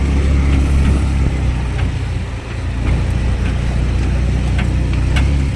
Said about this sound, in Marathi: बघा गाडी चढते का आपली.